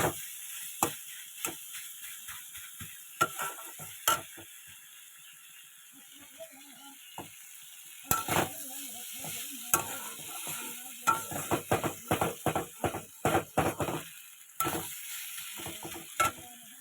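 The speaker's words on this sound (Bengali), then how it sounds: "এবার এটাকে একটু ভালো করে আগে কষিয়ে নেবো" Pumpkin, tomato and prawns sautéing in a pan, a soft sizzle under repeated sharp clacks and scrapes of a spatula stirring. The stirring is sparse at first, then turns quick and rhythmic, close by with no talking.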